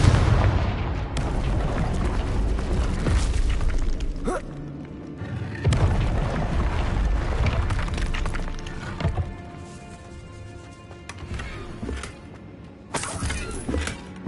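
Confringo fire spell cast in the Hogwarts Legacy game, producing heavy booming blasts that swell and fade in repeated bursts, loud and close, with a game voice briefly heard.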